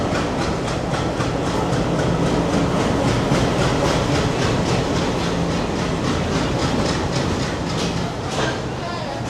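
The 18518 Vizag–Korba Link Express rolling along, a loud continuous rumble inside the train with rhythmic clickety-clack of wheels over rail joints for the whole stretch.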